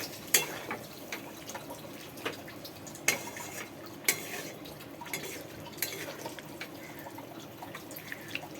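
Yogurt chicken being stirred and fried in a pan, with a soft sizzle underneath and repeated clinks and scrapes of a utensil against the pan at an uneven pace, close and fairly quiet.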